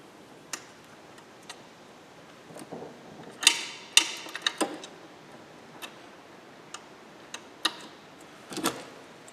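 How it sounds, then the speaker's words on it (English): Metallic clicks and small clatters come from throttle return springs being unhooked and removed in an Amazon car's engine bay. Sharp, irregular ticks and snaps sound close by, with brief scraping, and no one speaks. "So it's off with the throttle return springs."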